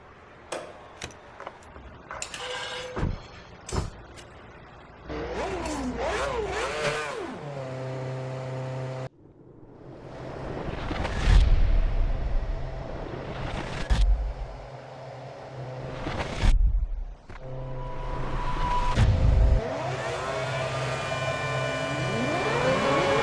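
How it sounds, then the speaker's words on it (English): Formula 1 car engine in the F1 2010 racing game at Monaco starts and revs, rising and falling in loud bursts with brief gaps between them. "Let's fire up the engine."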